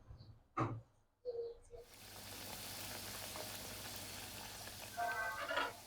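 Chicken vada dough balls dropped into hot oil, a steady close sizzle and bubbling frying that swells after a couple of soft thuds and continues alone.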